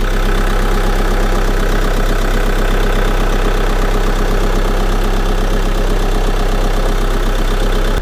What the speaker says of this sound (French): On va aller voir le moteur s'il n'y a pas de bruit suspect.